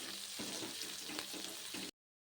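Tomatoes with chilli powder sauté in a pan for paneer chilli, a continuous close sizzle with soft rhythmic stirring scrapes, then abrupt silence; no voices.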